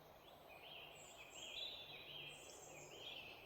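Birds calling in woodland at dusk, faint and somewhat distant, with overlapping chirps and warbling phrases repeating over a quiet background and no speech.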